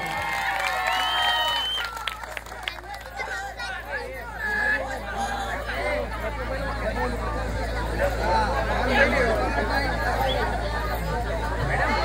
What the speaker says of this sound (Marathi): आमच्या वादकांनी कसं वाजवलं जरा त्यांच्यासाठी जरा एकदा खरंच मनापासून टाळ्या वाजवलं